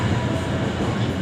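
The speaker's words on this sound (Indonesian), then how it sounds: "Di sebelah sana adalah rangkaian kereta lokal Walahar ya teman-teman ya," A Walahar local train on the Cikarang–Purwakarta line, a steady loud rolling rumble of railway cars with a dense, continuous roar throughout.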